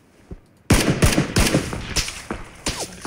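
Gunfire in the video game PUBG: Battlegrounds, a sharp, loud shot followed by a rapid string of close, cracking shots in uneven bursts over about two seconds, with no talking.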